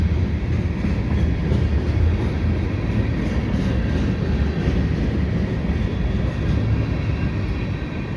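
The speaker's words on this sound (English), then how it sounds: "And that's the end of the train right there." A CPKC freight train with gondola cars rolls past at Dorval in winter, a loud steady rumble of steel wheels on rail that stays close and continuous for the full stretch with no voices.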